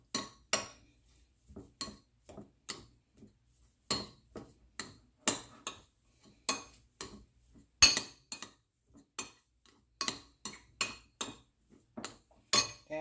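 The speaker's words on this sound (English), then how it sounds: "I'm gonna go ahead and get me a spoon. Just gonna just break up the yolk." A metal spoon works through boiled egg yolks for Jamaican-style deviled eggs. It makes a string of sharp, close clinks against the bowl in an uneven tapping rhythm, with quiet gaps between strikes.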